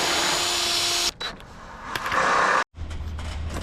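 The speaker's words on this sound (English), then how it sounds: "I'm gonna go ahead and install a couple of screws that don't penetrate through to the other side" A power drill drives screws into garage door trim, a loud continuous whirring run that cuts out, resumes and stops abruptly, then a lower hum follows, close with no talk.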